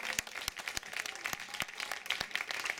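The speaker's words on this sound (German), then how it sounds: "Und wo ihr gerade am Klatschen seid." An audience at an outdoor climate event in Aachen claps steadily, a dense spatter of handclaps with a few sharp, close individual claps standing out over the crowd's patter.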